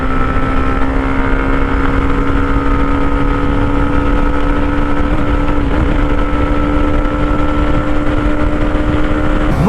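Hero Xtreme 125R and Bajaj Pulsar N125 motorcycles in a drag race hold a loud, steady engine drone close by, with no letup and no talk.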